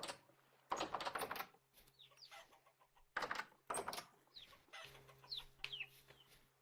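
Chickens in a Vintage Story game farm cluck in short bursts, with several separate calls and a few higher squawks, moderately close against a quiet background.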